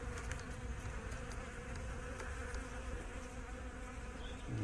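A wasp drones in a steady, close buzz without a break at an apiary, wings whirring loudly and evenly with no voices.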